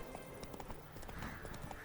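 Horse hooves clip-clop in The Witcher 3: Blood and Wine, a quick irregular trot of hoof clops on hard ground, fairly faint, with a soft snort or whinny mixed in.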